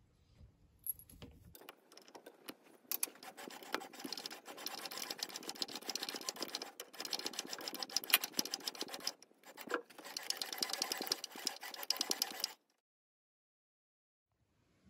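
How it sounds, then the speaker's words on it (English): Metal lathe cutting an internal thread inside an old valve guide for a bronze and brass petrol lighter, a steady close broadband machining hiss with busy chattering texture, running about eleven seconds before stopping into silence. "Now I'm over by the lathe, I'm going to start by putting an internal thread inside the valve guide."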